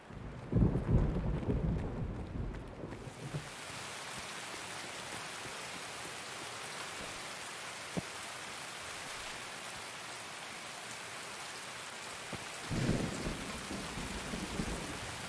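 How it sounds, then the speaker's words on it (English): Steady hiss of heavy rain in the video game Escape From Tarkov fills the scene, with a few low rumbling bursts at the start and near the end like distant thunder. "I feel like rain is kinda loud in Alton"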